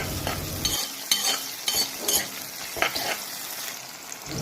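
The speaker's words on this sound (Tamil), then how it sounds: "நம்ம அப்படியே அந்த சூடான எண்ணெயில் அப்படியே கிளறி விட்டோன்னு வைங்களேன்" Garlic and ripe tomato stirred in hot oil for a sprouted beans curry, with a continuous crackling sizzle broken by several sharp spoon scrapes and taps against the pan, close and fairly loud.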